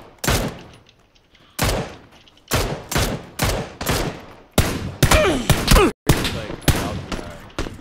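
Video game shootout with loud bursts of rapid gunfire, several separate volleys and sustained automatic fire close up, with brief quiet gaps between them.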